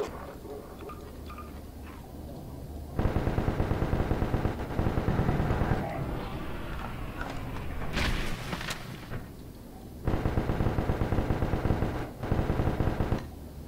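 Call of Duty weapons firing in Garry's Mod, long rapid automatic bursts at steady volume with short pauses between them, loud and continuous, no talk over the shooting.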